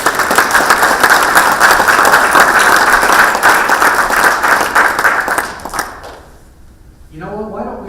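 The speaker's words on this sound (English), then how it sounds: "Everybody, big round of applause." Audience applause fills a candidates debate hall for Highland City Council contenders, a dense, steady clapping that carries for about six seconds before fading, and then a voice begins speaking.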